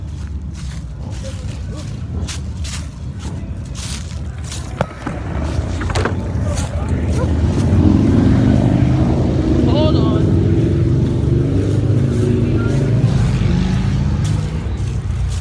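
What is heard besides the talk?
motorcycles passing by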